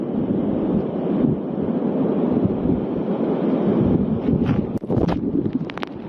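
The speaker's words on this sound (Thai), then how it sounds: "ลมอย่างพัดแรงอยู่เลยฝนอย่างตกอยู่เลย" Strong wind gusts through a heavy rain storm in Phuket, a steady loud roar of wind and rain throughout with harsher bursts buffeting the microphone toward the end.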